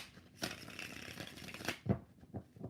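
Tarot cards being shuffled by hand, a soft papery riffle that stays quiet and close, with a brief muffled knock near the end.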